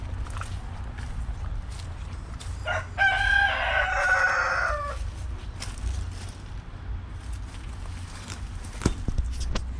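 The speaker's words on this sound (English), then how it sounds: "That rooster's he's always crowing." A territorial rooster crows once, a loud harmonic call standing out near the middle against a steady outdoor background.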